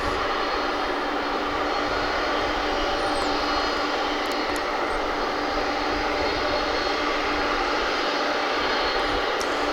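UPS cargo jet engines roaring at a DFW runway, a loud, steady, broadband rumble holding constant throughout with no voices.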